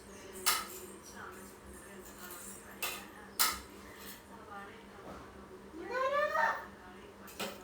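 Fried rice gets stirred with a utensil, producing a few sharp clinks and scrapes against the pot spaced across the clip, under quiet conversation from people nearby.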